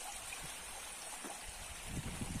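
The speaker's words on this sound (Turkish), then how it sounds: "Bakın hala yolun kenarından sular akıyor." Floodwater flows along a roadside, a steady rushing, trickling wash at moderate distance with faint low bumps near the end.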